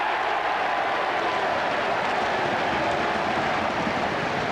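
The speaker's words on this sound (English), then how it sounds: "The roar comes up at Cardiff Arms Park." A rugby crowd at Cardiff Arms Park during a 1995 Cardiff versus Swansea match roars as one, a dense sustained wall of cheering that swells slightly and holds steady throughout.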